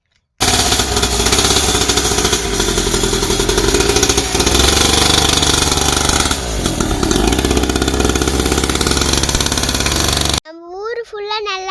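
A dirt bike engine roars close and loud on an off-road ride, revving hard and continuously for about ten seconds, then cuts off and is followed by a brief voice.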